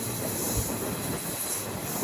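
A train rolls through a railway junction on the Tirupati to Villupuram route, giving a steady, loud rumble with hiss and faint wheel noise, unbroken for the whole stretch.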